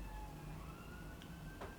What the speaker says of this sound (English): Hear that siren again?